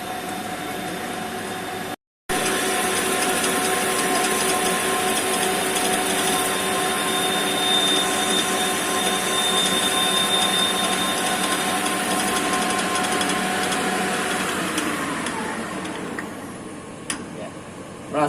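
A Siemens 808 CNC lathe turns a workpiece with a continuous whirring hum and steady high whine, broken by one brief dropout near the start and tapering toward the end.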